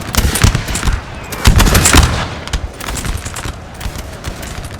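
Dense musket volleys crackle in a Napoleon Total War multiplayer battle at Quatre Bras against British and Swedish lines, rolling bursts of close and distant shots overlapping continuously with heavy low thumps.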